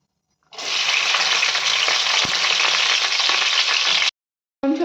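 Chopped onion and green chillies dropped into hot oil for a fish curry, a loud, steady, close sizzle that starts abruptly, runs unbroken for about three and a half seconds, cuts off, then briefly returns.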